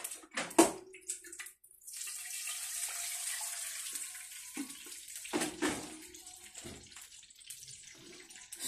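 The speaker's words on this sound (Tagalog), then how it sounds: "Talagyan ko lang ng water to" Water is poured into a pan of cooking longganisa sausage, a running, splashing pour lasting several seconds with a few sizzling clinks and a brief pause, fairly close and alone.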